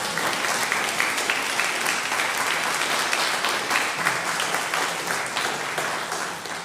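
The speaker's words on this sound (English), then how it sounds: "You can clap for that one." A church congregation applauds a couple's 45th wedding anniversary with dense, continuous clapping that stays loud and steady throughout and eases slightly at the end.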